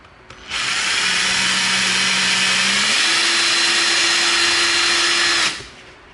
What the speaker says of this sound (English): And we literally line our drill bit up.